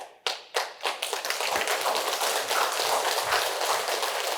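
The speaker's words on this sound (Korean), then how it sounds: "박수가 너무 빨리 나왔어" Audience applause in a lecture hall, starting with a few separate sharp claps, then swelling into steady dense clapping that holds for several seconds.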